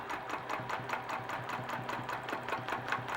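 A sewing machine stitches steadily during free motion quilting, a fast even mechanical chatter that is close and constant throughout with no pauses.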